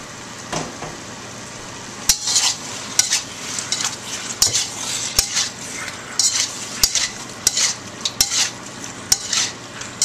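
Jumbo shrimp and scallops stir-fried with vegetables and a touch of cornstarch: a metal spatula scrapes and clanks repeatedly against the pan over a light, steady sizzle, with sharp irregular knocks throughout.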